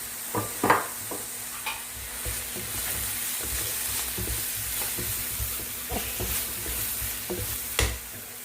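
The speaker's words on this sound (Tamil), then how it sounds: "இப்போ இது நல்லா ஃப்ரை ஆகட்டும்." Curry leaves, chopped coriander and green chili sizzle and crackle steadily in hot oil, with scattered stirring scrapes and pops up close; no one speaks.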